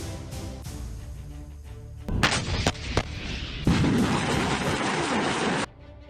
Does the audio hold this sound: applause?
no